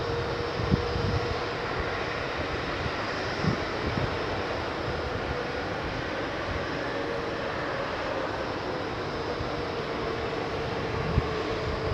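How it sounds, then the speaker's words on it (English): Steady broadband roar of jumbo jet engines idling at Heathrow Airport, a continuous purring rumble with a faint tonal whine, held evenly throughout with no talk. "the noise of those engines that you can hear purring away"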